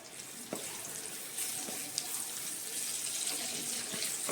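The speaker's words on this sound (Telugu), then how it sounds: "ఇప్పుడు ఇందులో ఆనియన్స్ ఇంకా గ్రీన్ చిల్లీ వేసుకొని ఫ్రై చేయాలి." Onions and green chillies frying in hot oil, a steady, bright hissing sizzle that runs throughout with a few small pops and stir clicks.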